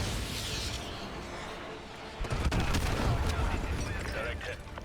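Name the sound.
gunfire in video game Call of Duty Modern Warfare 2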